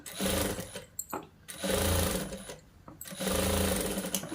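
A sewing machine stitches a boys' school uniform shirt in three steady runs of whirring, each broken by short pauses, close and loud with no talking.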